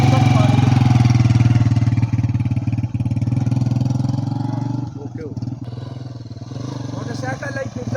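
A motorcycle engine runs with a steady, loud low drone that eases to a quieter idle partway through, with people talking over it.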